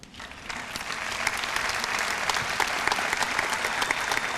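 At a school district entrepreneurship awards ceremony, an audience breaks into applause for students on stage, swelling quickly after a quiet start into full, steady clapping.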